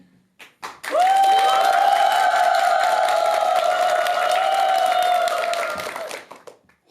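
An audience cheers and applauds loudly at a Buddhist dharma talk, a sustained rising roar with a high-pitched whoop carrying over scattered clapping for several seconds before fading.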